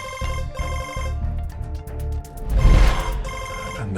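A telephone rings with a repeated electronic ringtone, loud and close, in a steady pulsing pattern with a brief swell of noise midway.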